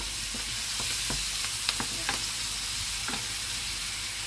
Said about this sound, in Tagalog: Magisa lang konti yung ating sibuyas.